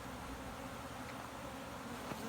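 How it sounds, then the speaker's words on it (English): Bees hum in a dense, steady drone, close and continuous throughout, with no voices. "Lots of bees coming through winter"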